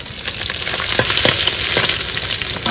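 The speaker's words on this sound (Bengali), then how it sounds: "মাছ ভাজা কিন্তু আমাদের হয়ে গেছে, এবার কিন্তু তুলে নেবো।" Fish sizzles steadily in hot oil over an outdoor cooking fire beside a small creek in the Sundarbans, a dense continuous crackle with occasional scraping stirs.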